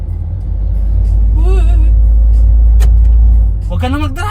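A car drives along a road during a driving lesson, its engine rumbling steadily and loudly up close while a voice rises in brief exclamations over it.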